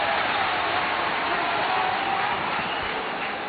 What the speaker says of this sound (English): Cheer to the rafters by the noisy Hearts fans.